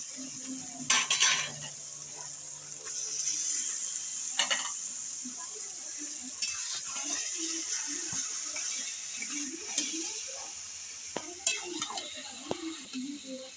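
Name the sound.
stirring taro leaves with spices in a pan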